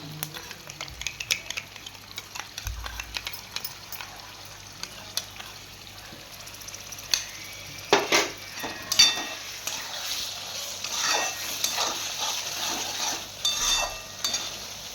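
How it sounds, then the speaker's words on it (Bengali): Sour yogurt being whisked with sugar in a bowl, a soft, steady scraping and clicking rhythm close by, quiet throughout with a few louder taps near the end and no talking. "চিনিটা দিয়ে দিয়েছি, আমি একটু ফাটিয়ে নিচ্ছি"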